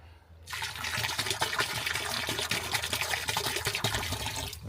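Liquid seaweed is poured into a 120-litre tank of jadam fertiliser: after a brief quiet start, a continuous, fairly loud splashing pour runs to the end with no talking.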